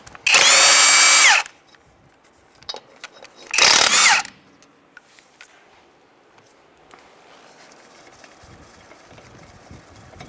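A power tool spins off locking lug nuts from the front wheel of a 1992-1996 Ford F-150 in two loud, sharp whirring bursts, the first about a second long and the second shorter, with quiet gaps around them.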